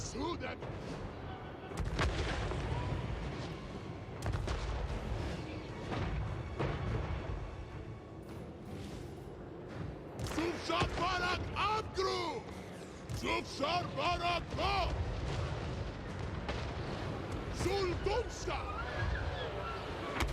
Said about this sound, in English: the Magma Cannon seems pretty cool